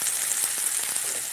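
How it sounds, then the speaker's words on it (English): Potatoes and sausage frying in a pan give a steady, close sizzle with fine crackling spatter throughout, no voices over it. "Yeah, potatoes frying always smells."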